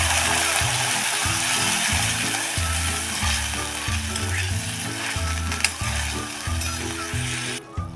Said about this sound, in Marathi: आता त्यामध्ये ओतूया हे साधारण पाव वाटी पाणी